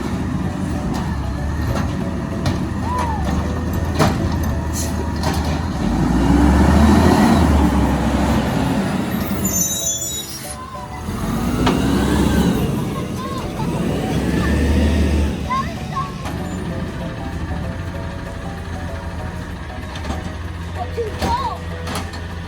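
A garbage truck drives and works on a residential street, its engine rumbling and swelling as it moves and operates nearby, with people talking over much of it.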